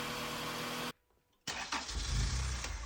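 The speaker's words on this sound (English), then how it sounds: "After I got the motor started" A Honda B20 VTEC engine cranks, cuts out briefly, then fires up and settles into a loud, rough idle on its first start, close by with no talking.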